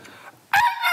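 A voice imitates a rooster crowing on a Korean variety show, a short, loud, nasal crow that bursts out after faint background murmur and lasts about half a second.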